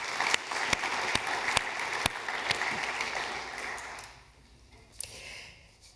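A conference audience applauds to welcome guests at a museum event, a dense steady patter of many hands with a few sharper nearby claps standing out, fading away after about four seconds before one last clap.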